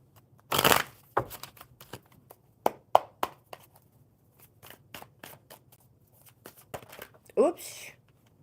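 Tarot cards shuffled by hand during a casual live card-reading chat, giving scattered riffling bursts, soft slaps and taps, with quiet talk at times in the gaps.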